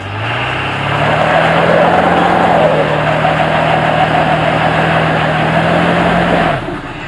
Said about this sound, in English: the truck started to bog down and eventually just shut off